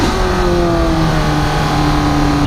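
A McLaren 675LT's engine roars steadily and loudly under hard braking, with a sustained mid-pitched tone and rushing noise throughout, and no talk.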